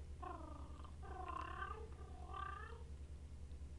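A cartoon cat in the Lenny's Music Toons video game purrs softly in a steady rumbling rhythm for a few seconds, with no talking.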